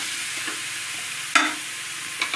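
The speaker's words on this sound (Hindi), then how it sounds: "अब इसमें ये प्याज डालेंगे प्याज और लहसुन है इसमें देखिए प्याज भुन गया है" Chopped onion and garlic fry steadily in a hot pan, giving a continuous bright sizzle with a sharper burst of spattering as the pan is stirred partway through.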